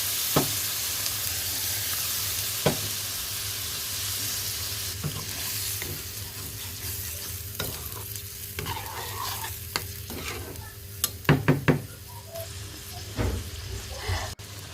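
Prawn curry in a pan sizzles and fries steadily after broth is poured in, with a continuous hiss broken by occasional stirring scrapes and clinks near the end.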